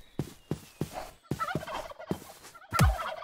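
A bird gobbles like a turkey in the Minecraft modpack RLCraft, a series of sharp close knocks followed by a warbling gobble call that ends in a louder burst.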